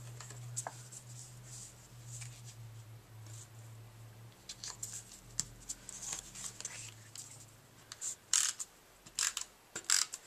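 A snail adhesive tape runner applies adhesive to a card, giving soft clicking and ratcheting bursts that grow sharper toward the end, close by under a low background hum.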